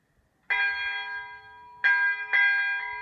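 A single Lutheran church bell rings out in clear, resonant strikes, three or four tolls with long ringing decay, in an otherwise quiet space.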